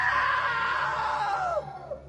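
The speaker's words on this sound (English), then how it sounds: "Now that was a great scream." A single loud scream from the video game What Remains of Edith Finch rises and then falls away over about two seconds, heard close over a low background hum.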